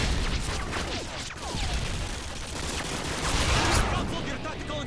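Gunfire in a Call of Duty match rattles in a steady, dense stream of shots at moderate volume, with a player talking over the action.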